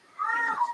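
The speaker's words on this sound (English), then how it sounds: "My cat Joe is yelling because it's kitty cat dinner time" A cat named Joe lets out a single loud, drawn-out meow, close by, demanding his dinner.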